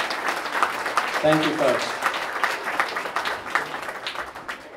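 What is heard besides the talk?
audience applause for chamber members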